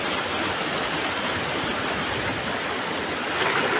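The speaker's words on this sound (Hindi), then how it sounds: "ये आबशार माशाल्लाह यहाँ पे बह रहा है" A waterfall in a mountain area gives a steady, dense rush of falling water that stays loud and constant throughout, with no voices over it.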